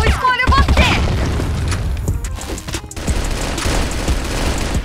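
A video game grenade goes off among loud battle noise, with bursts and booms over rumbling gunfire and bits of other sound mixed in.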